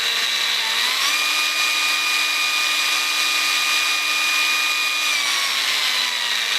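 Cordless WOSAI angle grinder running freely and shifting between speed settings, a loud steady high whine that steps up in pitch near the first second and drops back down near the fifth, alone without talk.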